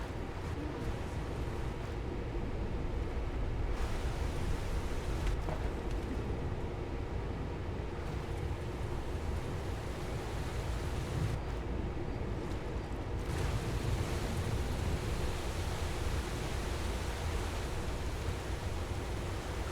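A waterfall rushes steadily in Skyrim near the Vale, a dense, constant roar of falling water filling the whole clip at an even level with no talk.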